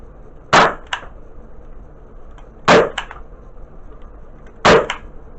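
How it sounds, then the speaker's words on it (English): An airsoft pistol fires three sharp shots into a test fire box, evenly spaced about two seconds apart. Each crack is loud and close, with a quick secondary clack right after it, against a quiet background. "a little test fire on that pistol there"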